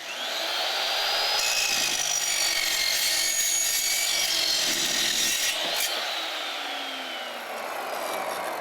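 Metal-cutting chop saw making a miter cut, a loud continuous high whine and grinding rasp that builds over the first seconds, holds steadily, then eases toward the end.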